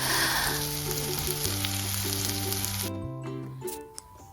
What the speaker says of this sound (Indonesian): Kita masak sampai bener-bener bumbunya itu kecoklatan dan harum.